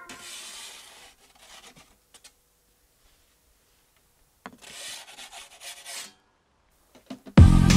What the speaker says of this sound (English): scrape with the pizza peel and give it a rotation